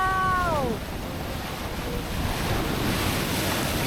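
Ocean surf at a beach in Basilan, a broad continuous wash of waves with wind buffeting the microphone, preceded by a brief high whining tone at the start.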